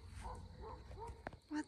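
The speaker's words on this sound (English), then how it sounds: "And all the dogs are barking." Dogs on a farm yip and whimper in short, faint bursts at a distance, a few sharper barks near the end.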